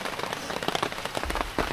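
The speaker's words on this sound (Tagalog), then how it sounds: "2:27 ng hapon at medyo bumuhos na naman ang ulan." Heavy afternoon rain pours steadily onto a surface, a dense, close hiss of countless drops with no voices.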